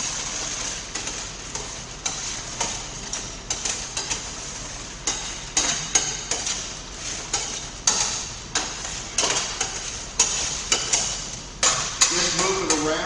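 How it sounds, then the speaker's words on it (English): Hot kettle corn coated in melted sugar being stirred in the pan of a regular popcorn machine, with steady rhythmic scraping and rattling strokes and a sizzling hiss underneath, while a person talks. "move the popcorn across the holes in the bottom of the pan so it'll catch all the old maids"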